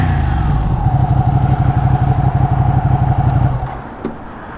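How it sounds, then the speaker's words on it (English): A 2018 Ducati 959 Panigale's engine runs at a loud, steady, close-up idle with a throbbing low rumble for about three and a half seconds, then drops off abruptly, leaving a faint tick and quieter background. "Very nice bike, but y'all already knew that. Ducati 959 Panigale."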